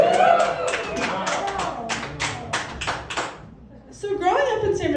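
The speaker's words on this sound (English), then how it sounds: "Give a big cheer if you hate Californians." Stand-up comedy audience clapping in a quick rapid burst, then the applause thins out and fades before cheering voices and a comedian's speech come back in.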